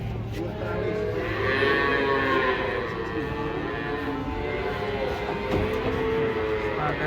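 Cattle being unloaded from a truck, with drawn-out moos rising over a steady background of handling noise and voices, moderately close.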